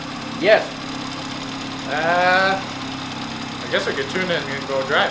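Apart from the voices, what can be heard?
BMW F30 340i B58 engine turbo noise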